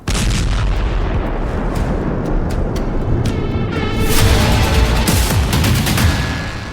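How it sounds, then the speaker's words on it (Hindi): A sustained, roaring blast from a private jet crash explosion at night, with crackling bursts, loud and continuous, swelling midway and fading slightly at the end. "यह धमाका उसी हादसे का बताया गया है।"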